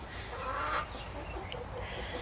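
Chickens cluck softly and intermittently over a steady low background hum, with a few brief higher calls.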